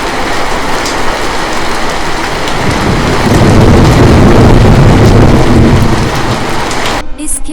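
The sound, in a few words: heavy rain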